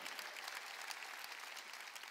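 A church congregation applauds during a sermon, a dense, steady wash of clapping from many hands that carries on for the whole moment.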